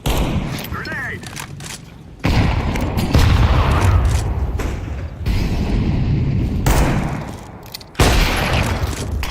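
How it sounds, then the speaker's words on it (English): Grenade blast in Counter-Strike, a few heavy, booming bursts that come at intervals among loud match noise and gunfire, with voices talking throughout. "Grenade."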